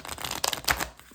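A deck of oracle cards is shuffled up close in a brief flurry of riffling and papery slaps, moderately loud and over within a second or so.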